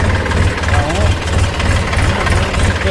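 A tractor engine idles nearby with a steady low, throbbing chug, while someone speaks over it.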